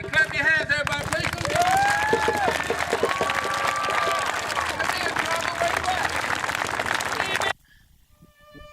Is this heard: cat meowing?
no